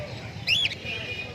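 At a pigeon and bird market, with lovebirds among the caged birds, a single brief high chirp rises over a steady crowd murmur, with faint thin whistles following.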